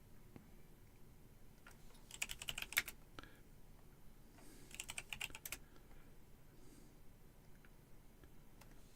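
Bursts of computer keyboard typing while commands are entered in the hacking game Bitburner, two quick clusters of clicky keystrokes with scattered single taps, close and fairly quiet, no voices.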